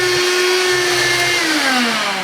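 A Bissell Magic Broom vacuum cleaner with a rear agitating brush runs loud and close, giving a steady high-pitched motor whine with a tone that slowly drops in pitch.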